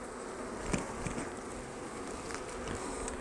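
A dense, steady insect buzz of many honey bees around a hive, continuous and close throughout with no voices.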